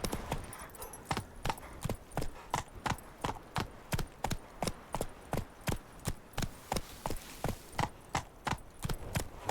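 Roach the horse gallops through The Witcher 3, a steady, close clip-clop of hooves beating in an even rhythm, about two to three strikes per second, sustained the whole time with no other sound on top.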